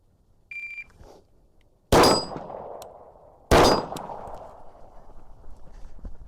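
Two sharp Glock 19 pistol shots ringing off steel targets, each a loud crack followed by a metallic clang that decays over about a second, spaced well apart after a faint beep.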